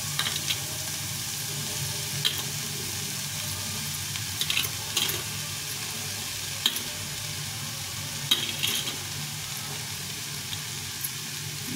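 Soybean chunks, cabbage, cauliflower and carrot fry in a pan of oil for momo filling, giving a steady, even sizzle with occasional clicks and scrapes of stirring throughout.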